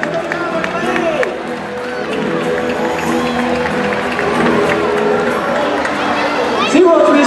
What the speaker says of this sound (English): How about a huge round of applause for the coyote, Chua, and all his volunteers.